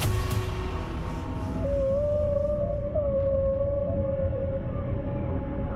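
A long, rising tonal call sweeps upward and holds steady underwater, standing alone over a low, rumbling ocean background.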